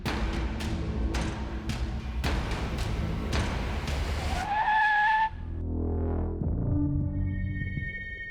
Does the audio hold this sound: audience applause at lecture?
no